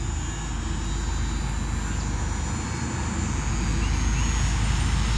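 A small EAZYRC PA-18 Super Cub RC model airplane flies outdoors on a windy day, its electric motor giving a steady high whine over broadband wind rumble, continuous and moderately loud with no talk.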